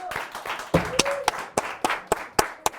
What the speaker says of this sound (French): Un tonnerre d'applaudissements sur le plateau d'Angle mort pour Redouane